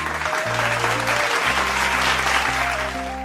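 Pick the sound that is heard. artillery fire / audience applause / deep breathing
audience applause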